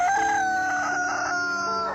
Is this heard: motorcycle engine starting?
no